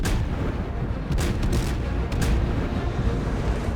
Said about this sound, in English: I ordered the senior artillery officer to open fire with armor-piercing shells.